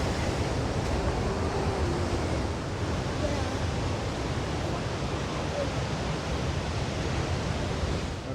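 Ocean waves crash right at the edge of the Bondi Icebergs Pool beside Bondi Beach in Sydney, a loud continuous surf roar with no clear breaks.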